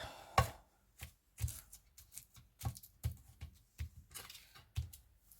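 Pieces of ATC card being cut, a series of sharp, crisp snips and clicks at an irregular pace, about a dozen in all, close and quiet with silence between them.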